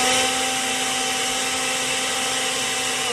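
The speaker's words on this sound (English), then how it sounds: "I just have this old blender." An old electric blender whirring through a spinach and peanut butter smoothie, a loud steady motor drone with a constant pitch that runs unbroken for a few seconds.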